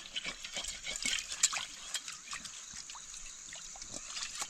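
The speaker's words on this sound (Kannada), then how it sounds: "ನೀರು ನಾವು ಬೆಂಕಿಯನ್ನು ನಂದಿಸಿ ಹೋಗುತ್ತಿದ್ದೇವೆ." Water being poured onto a campfire in a forest to put it out, faint trickling and splashing with soft intermittent hissy pulses, quiet and close, with no talking.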